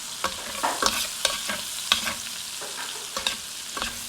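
Butter melting in a skillet for Tuscan shrimp, a steady close sizzle broken by repeated scraping stirs and small clinks, with no voices.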